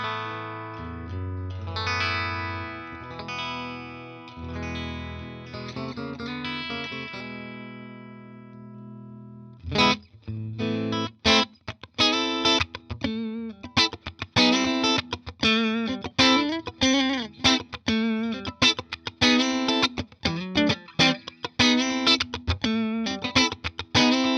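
Electric guitar played through a Mojotone BlackOut Tweed amp on its classic setting with volume at 10, treble 9 and bass 8: sustained ringing chords for ten seconds, then a loud, crunchy, rhythmic run of sharply picked chord stabs.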